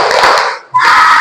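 A classroom of children claps hands in a Tepuk Islam rhythm, dense overlapping claps in two bursts separated by a short pause.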